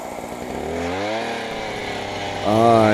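A 43cc gas-powered 8-inch earth auger runs steadily at a mine site, its small two-stroke engine droning close and loud, rising in pitch and volume near the end as it revs up.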